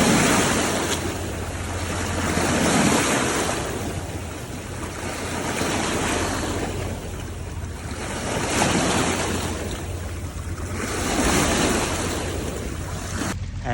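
Waves wash against a Mississippi River bank in slow, rolling surges every few seconds, steady and fairly loud with wind rumble across the microphone and no voices.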